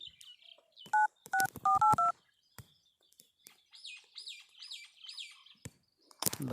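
A phone dials a number, a quick run of about eight separate DTMF keypad tones in the first seconds, followed by chirping birds and then a short loud burst at the end.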